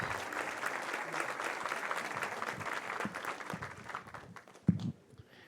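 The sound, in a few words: applause in church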